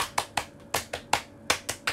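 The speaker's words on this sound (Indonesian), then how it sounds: "Tepuk pramuka." Rhythmic scout hand-clapping pattern (tepuk pramuka), crisp close claps in a quick, uneven beat with short gaps, about nine strikes with no other sound.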